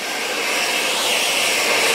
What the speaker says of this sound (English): You put the blow dryer comb up to the scalp.